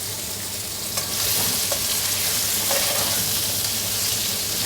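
Paneer pieces frying in a pan for a paneer posto makhani, a steady loud sizzle throughout with a few soft scraping clicks, no voices.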